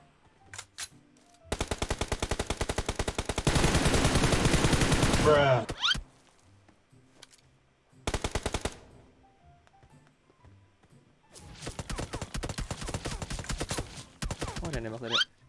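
Gunfire in a shooter video game: long, loud bursts of rapid automatic fire in several separate volleys, with short gaps of near silence between them and an occasional single shot.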